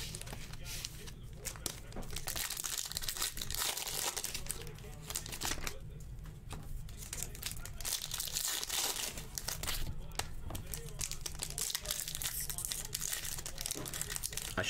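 Foil packs of 2022 Chrome Cosmic hobby trading cards are torn and crinkled open close by, with continuous ripping and rustling bursts over a steady low hum, and a voice speaks at times.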